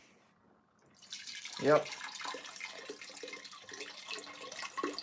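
Fingers are rinsed under a running tap in a chemistry lab, a brief splash rising into a steady soft stream of water; a voice speaks briefly over it.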